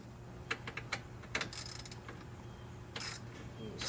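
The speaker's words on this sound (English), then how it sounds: "Now I'm just gonna snug them down with a ratcheting wrench" Ratcheting wrench snugging down bolts on the condenser of a 2003 Mercury Mountaineer, short bursts of quick metallic clicks with pauses between them, close and faint.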